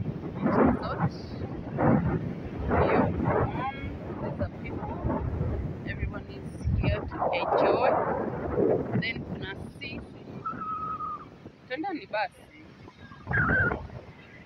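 Strong wind buffets the microphone at Baobab Beach in Kilifi, rough water nearby, with loud gusty roaring bursts rising and falling while people talk over it.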